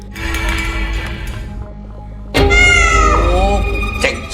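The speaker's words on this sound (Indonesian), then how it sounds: "Ternyata itu hanya seorang kucing." A cat meows in the dark at night, loud and close: a drawn-out cry, a brief pause, then a longer wavering meow that rises and bends in pitch.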